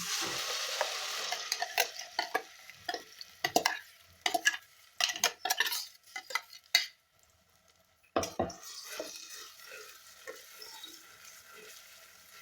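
A paste of onion, tomato, coriander, ginger and garlic goes into hot oil for pav bhaji, with sharp sizzling bursts and clanks of a utensil against the pan, close and uneven, a short pause, then a steadier frying hiss.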